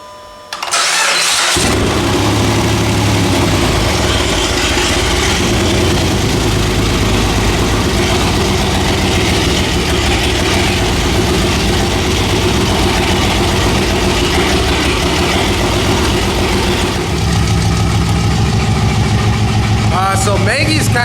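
A Dodge Magnum 3.5L V6 stroker with big cams, ported heads, shorty headers and straight-pipe exhaust starts up, then holds a loud, steady, lumpy idle close by for about twenty seconds.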